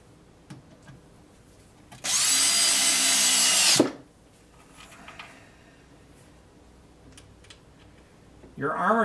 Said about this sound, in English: I'm using 1-inch screws to anchor this to the board.